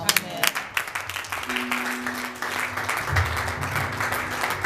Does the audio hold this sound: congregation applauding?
yes